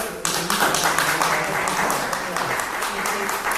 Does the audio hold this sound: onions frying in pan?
no